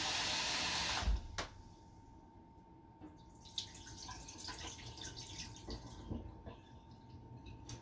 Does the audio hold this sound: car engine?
no